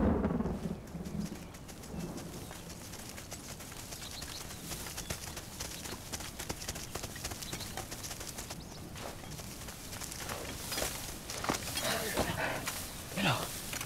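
Steady rain with rolling thunder runs as a continuous, moderately loud wash of noise, with rumbling swells and sharper crackles and a louder burst near the end.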